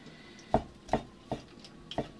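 A knife cuts cabbage into slices on a board, four crisp chopping thuds in a loose rhythm, close and clear with no talk.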